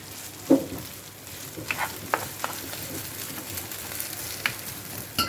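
Homemade tomato paste frying in a pan as it is stirred for bulgur pilaf, giving a continuous sizzle broken by a few scraping clicks of the spoon, close and with no voices.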